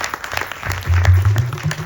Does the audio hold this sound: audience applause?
yes